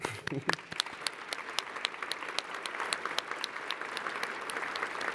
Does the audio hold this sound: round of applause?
yes